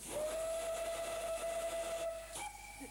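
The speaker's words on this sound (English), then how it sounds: "number 4 has a pair of Great Western Castle whistles" A preserved locomotive's loud, sustained Great Western Castle steam whistle blows steadily for over two seconds, then shifts abruptly to a second, chord-like whistle tone with hissing steam behind it.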